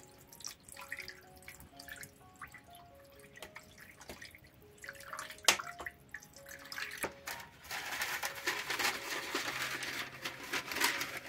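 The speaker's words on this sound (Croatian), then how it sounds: "I dodat ću 1 čašu vode." Water from a glass poured into a baking tray holding marinated beef and a little oil, heard as close trickling and dripping that swells into a fuller splashing pour, with no talk.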